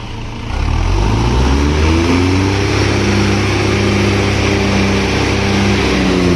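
Tractor engine running close and loud, rising quickly to a revving roar and holding a steady droning pitch throughout; the switch-off is not reached.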